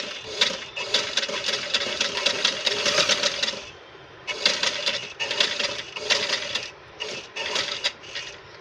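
A sewing machine stitches a suit or kurti in bursts of rapid, even mechanical chatter, running steadily for about four seconds, pausing briefly, then resuming in shorter runs with small gaps, close and clear with no talking.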